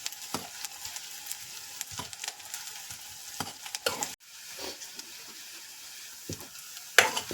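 Onion sautés in a hot pan for a dry mandeli fish fry, with a steady sizzle broken by repeated, close spatula scrapes and stirring knocks.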